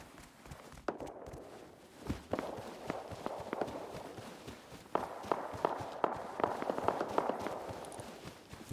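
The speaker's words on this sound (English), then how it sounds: "Gunshots everywhere." Scattered sharp gunshot cracks from the survival video game Rust, a faint irregular series of distant shots mixed with footsteps.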